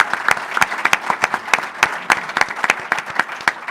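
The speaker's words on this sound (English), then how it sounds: "Let's give them a big round of applause." Hearty audience applause at a regional community event, dense and sustained clapping from a crowd filling the whole stretch with no talk over it.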